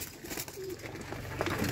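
Pigeons from three crossbred breeder pairs coo softly in a loft, low murmuring calls recurring over a steady background hum with no talk.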